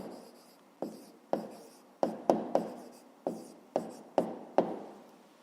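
A pen scratches on paper in about ten quick, separate strokes as an answer is written down during a fifth-grade maths exercise. The strokes are close and clear, with no talk over them.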